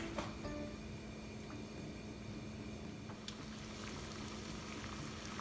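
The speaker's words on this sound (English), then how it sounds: "now our water has come to the boil" Water for masala chai, with cardamom and cinnamon, bubbling at a rolling boil in a pot, a steady soft churning hiss with no talking.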